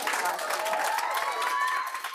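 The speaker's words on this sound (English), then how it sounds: "Many in the crowd supporting the decision with a round of applause" A crowd at a school board meeting claps in a steady round of applause for a few seconds, dense and sustained, with voices mixed in.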